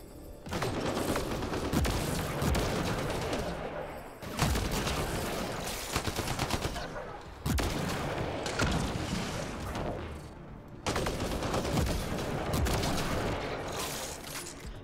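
Sustained bursts of rapid weapon fire from the Mass Effect Andromeda video game, four long dense volleys separated by brief pauses, loud and continuous with no talk over them.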